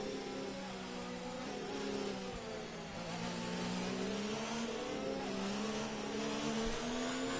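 A Formula 1 2019 race car engine drones steadily as the tyres are warmed, its pitch wavering and rising and falling in a continuous, close, loud whine with no voices.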